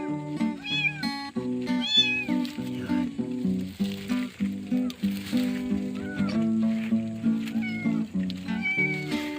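Kittens under a tree meow over and over in quick, high-pitched, overlapping cries, close by, while a voice briefly speaks.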